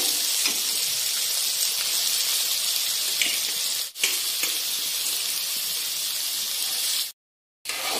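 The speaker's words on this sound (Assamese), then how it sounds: "কঁঠালখিনি এনেকৈ পানীটো যাব দি অকমান ভাজি লম" A loud, steady sizzling hiss from jackfruit pieces frying in a pan, continuous and close, broken only by a short silence near the end.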